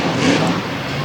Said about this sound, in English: the slap wheelie from Dalton Van Skyok in Stomper, the Lethal Threat Chevrolet out of Portland, Indiana